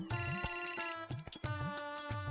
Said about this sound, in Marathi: एक मिनिट, फोन आला